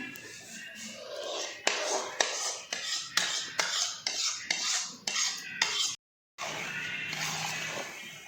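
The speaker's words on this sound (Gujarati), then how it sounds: "તો હવે લોટ મિક્સ થાય છે ત્રણેય જાતનો શેકેલો આપણો" A spoon scrapes and knocks steadily against a pan while roasted gram flour is stirred together with two other roasted flours for Gujarati winter vasanu ladoo, a regular rhythm of close, crisp strokes that stops briefly near the end.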